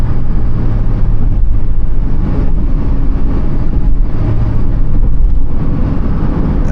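A 2005 Maruti Suzuki Baleno with the 1.6 engine pulls steadily in fourth gear, its loud, constant engine drone and road rumble filling the cabin without pause.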